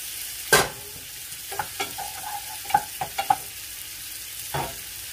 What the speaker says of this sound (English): I'm gonna add a little bit of water to this.